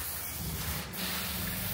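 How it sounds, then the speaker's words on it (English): Feynlab V3 rinseless wash sprayed onto a car panel, heard as a short, close, steady hiss of mist from a spray bottle with no talk. "We're doing a spray on here."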